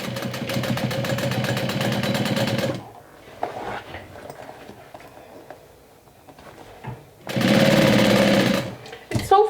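A sewing machine stitches the seam of a swim tote in two fast, rattling bursts of about three and two seconds, close by, separated by quieter handling and fabric sounds.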